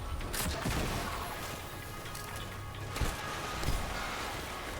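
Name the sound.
video game weapon fired, projectile exploding on the ground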